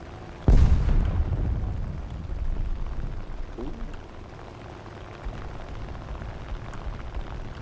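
A bomb explosion in the War Thunder game, one sudden heavy boom that trails off into a long rumbling tail, with someone talking over it.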